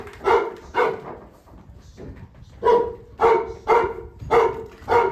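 Trained search and rescue dogs bark repeatedly at close range during a training exercise, sharp woofs in two quick bursts, then a steady run of barks after a short pause.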